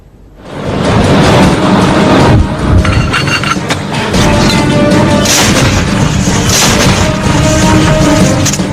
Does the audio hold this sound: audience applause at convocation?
no